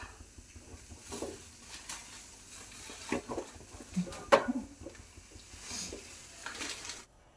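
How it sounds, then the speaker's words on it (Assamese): Milk tea boils in a pot on a home stove, giving soft, irregular bubbling and sizzling pops that rise and fall close by, with faint clinks now and then. "গাখীৰ চাহ উতলি আছে"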